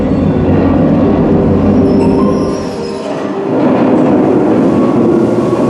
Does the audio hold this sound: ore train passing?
yes